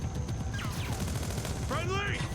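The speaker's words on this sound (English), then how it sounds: "we're kind of interrupting a firefight between some friendlies and some, well, engineers, the bad guys" Gunfire crackles through a firefight in the video game Splinter Cell: Blacklist, bursts of shots mixed with whistling in-game sounds and a steady battle background.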